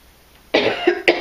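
Two or three short, sharp coughs from one person, close and fairly loud, the first a little longer and the last a quick burst after a brief pause, in a quiet indoor setting.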